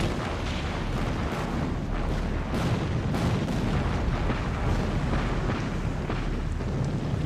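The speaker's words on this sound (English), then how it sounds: "they opened fire" Naval cruiser guns open fire at night in a sustained, dense rumble of booms and blasts, loud and continuous, with repeated sharp impacts layered over a heavy roar.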